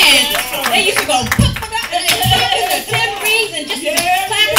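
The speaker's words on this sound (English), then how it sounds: "tambourines and just clap it" Hands clap in a lively, uneven rhythm in a worship service with tambourine playing, loud and close, with singing and voices mixed in.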